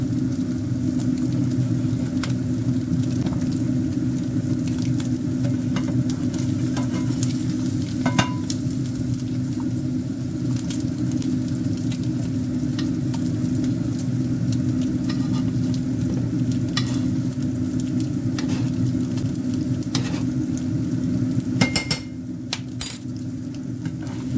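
Pork frying in browned butter, a continuous dense sizzle with a low rumbling hum underneath and scattered light clinks, steady throughout and with no talking.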